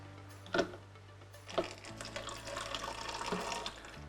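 Water flowing through a straw in a homemade water dispenser built as a simple robot project: faint trickling and gurgling with a couple of soft knocks over a low steady hum.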